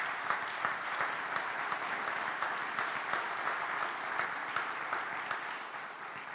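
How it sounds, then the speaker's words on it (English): A room of leadership event attendees gives a sustained round of applause, thick and even throughout with no voices over it. "Let's give him a round of applause."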